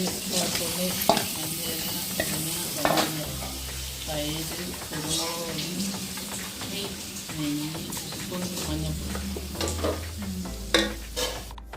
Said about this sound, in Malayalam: എന്നിട്ട് ടൊമാറ്റോ എല്ലാം ഒന്ന് സോഫ്റ്റ് ആകുന്നവരെ നല്ല വഴറ്റിയെടുക്കും.